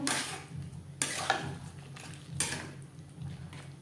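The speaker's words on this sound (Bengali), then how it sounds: "মশলার সাথে আলু বেশ ভালো করে মিক্সড করে দেব" Boiled potatoes stirred into cooked spices in a pan, a few scraping strokes of a utensil against metal spaced about a second apart, close and moderately loud.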